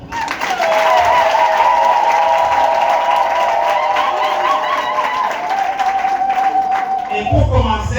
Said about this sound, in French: Je voudrais que nous puissions tous nous applaudir.